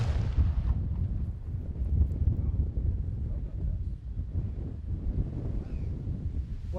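A Kokhuis cannon fires, giving deep rumbling booms and low rolling blasts that stay loud through the clip, with wind buffeting the microphone.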